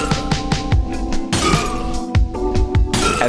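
Glass shattering in a made-for-game sound effect for the indie game Gladihoppers, a dense crashing burst of bright breaking shards layered with repeated low thumps, loud and continuous for several seconds with no voices.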